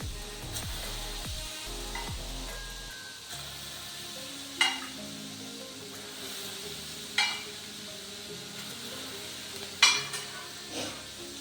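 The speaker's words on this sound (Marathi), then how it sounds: "असे गरम तेलात आपण मसाले भाजून घेऊया" Whole spices roast in hot oil for mango pickle: a low sizzle runs throughout, with occasional sharp scraping stirs of a spoon against the pan standing out at intervals.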